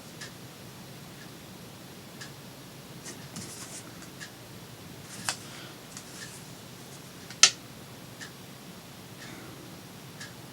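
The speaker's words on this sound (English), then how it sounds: "Very easy letters to write upside down, I must say." Soft scratching of a pen writing letters by hand on paper glued upside down, quiet and close, with a few sharper taps and ticks scattered through.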